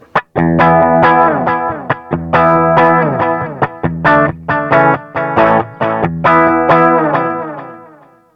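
An electric guitar plays a melodic line through a Quattro micro digital delay pedal, loud and distorted, with repeating echoes trailing each plucked note and a fading tail at the end.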